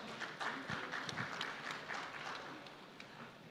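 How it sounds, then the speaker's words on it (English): Moderate applause from an audience at a large banking and financial services conference fills the space, a steady patter of claps heard from some distance. "So first of all, please give them a big round of applause."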